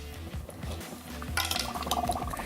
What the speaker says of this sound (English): You can already hear it bubbling